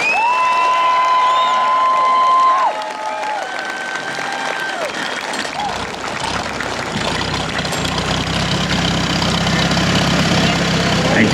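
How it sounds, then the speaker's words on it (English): Loud applause from a large crowd at a tractor pull in New Vienna, Iowa, mixed with cheering, following a stretch of sustained tones, continuing steadily to the end. "give him a great big round of applause right there"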